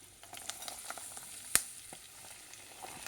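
Mustard seeds splutter in hot oil during tempering for a pulusu, a soft scatter of small pops and crackles with one sharp louder crack midway.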